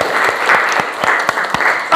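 Close, loud applause from students in a junior high school classroom, quick uneven claps from a small group filling the short moment.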